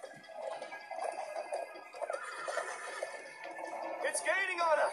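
A horse whinnies in the Minecraft: Story Mode video game, a rising and falling neigh near the end, heard under excited talking over a busy game soundscape.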